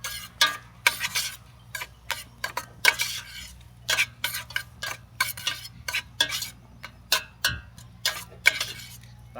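A utensil stirs Thai-style coconut rice in a pot in a series of sharp scraping and clinking strokes, steady and close, with a low hum underneath and no talking.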